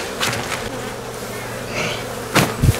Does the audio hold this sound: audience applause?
no